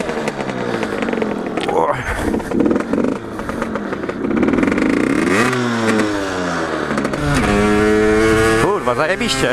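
A Rieju MRT 50 two-stroke enduro motorcycle runs close by, its high-pitched engine revving and rising through the gears in repeated sweeps, while someone talks excitedly over it.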